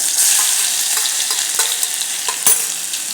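Mustard seeds, curry leaves and green chili paste sizzle loudly in hot oil in a kadhai, a close continuous hiss broken by sharp crackles and popping spatters.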